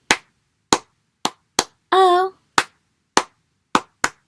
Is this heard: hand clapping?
yes